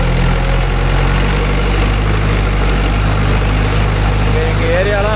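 A Mahindra 575 DI tractor with cage wheels works in a rice field, its diesel engine running in a loud, steady, close drone, with someone talking over it.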